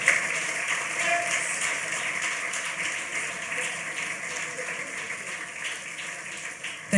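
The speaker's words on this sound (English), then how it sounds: "Shall we please give a round of applause to our visionary leader, the Archbishop." Sustained audience applause for an Archbishop at a business forum breakfast, a steady dense wash of many hands clapping that holds evenly throughout and ends with a sharp burst at the close.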